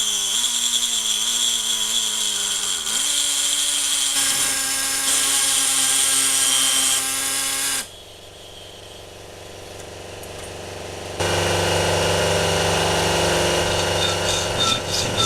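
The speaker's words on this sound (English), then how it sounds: "Start with an ordinary hacksaw, for more control, and then the air saw for speed." A pneumatic air saw cuts during an engine restoration, producing a loud, close, high whining buzz that shifts in pitch, drops away briefly, then returns harsh and strong.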